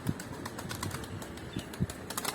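A pigeon flying in to land, its wings beating in a quick series of soft, papery flaps and bursts, close by and with no voices.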